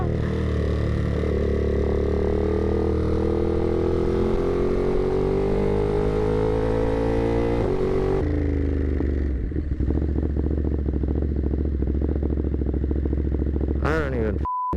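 A 2021 Ducati Monster 937 engine drones close by with revs climbing steadily, then drops abruptly into a lower, rougher rumble as it downshifts, with a short chirp near the end.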